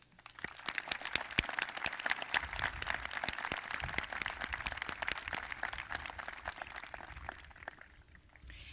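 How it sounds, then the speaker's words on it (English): Sustained applause from a crowd at a high school graduation ceremony, many hands clapping in a dense, even patter that fades slightly toward the end. "join me in applauding the professionals"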